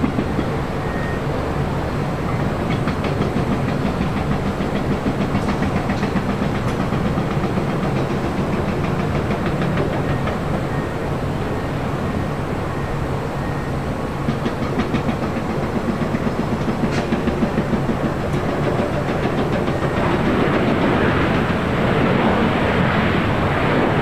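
Airbus A380 taxiing along a taxiway at LAX, a loud continuous engine rumble and roar that holds steady for the whole stretch, swelling slightly near the end.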